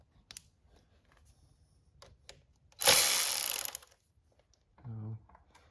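A ratchet wrench clicks through a quick run of turns on a bolt of a KLR motorcycle, loud and close, preceded by faint taps and handling noises and followed by a short voiced sound.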